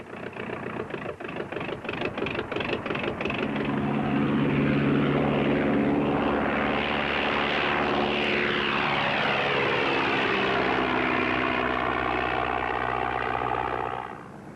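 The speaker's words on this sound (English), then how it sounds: "after one more trip, the plane won't be coming back" A propeller aircraft flies over open tundra, its engine drone loud and steady throughout, rising as it nears and then holding a sustained roar with shifting pitch as it passes close by.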